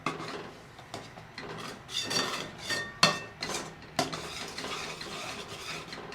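Spoon stirring thick gundar paak mixture of edible gum and sugar syrup in a pan over low heat, with repeated scraping strokes and sharp clinks against the metal at an uneven rhythm, close up with no talk.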